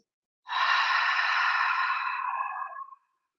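A soft, breathy hiss of an Ujjayi out-breath pushed through a lightly constricted throat during yoga practice, close and isolated, holding steady for over two seconds then fading out.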